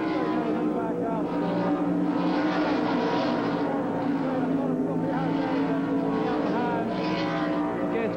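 NASCAR Winston Cup race cars roar through the pit area at the 1990 Valleydale Meats 500, a continuous loud engine drone that fills the whole stretch with steady intensity.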